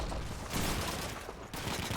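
Rapid, dense gunfire from the World War II shooter Call of Duty 2 (2005), a loud continuous fusillade of overlapping shots during a village siege.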